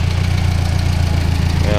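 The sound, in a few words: tractor engine running, pulling Ford 515 sickle bar mower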